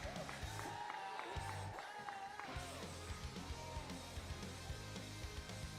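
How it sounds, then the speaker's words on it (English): A crowd cheers and shouts at a robotics tournament, a busy wash of voices with whoops and a few tonal beeps and horn-like tones over the noise, continuing steadily under the din. "let's make some noise and cheer them on."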